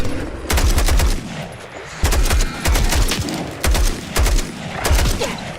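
Gunfire in a post-apocalyptic shooter game, bursts of rapid, loud shots in several clusters separated by short pauses, close and punchy.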